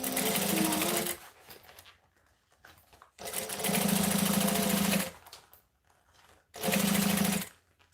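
A sewing machine stitches soft fabric in three fast bursts of loud, even whirring, separated by quiet pauses with light handling noises.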